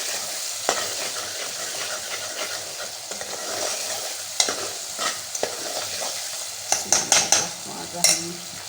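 Ridge gourd pieces tipped into hot frying masala in a pan and stirred, a steady sizzle with scraping spoon strokes and several sharp metallic clinks of utensil against the pan near the end.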